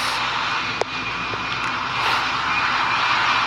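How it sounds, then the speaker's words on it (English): Airplane engine in the PTFS flight game, a steady broadband drone that swells slightly as it approaches, with a sharp click near the start and no talk. "Incoming plane."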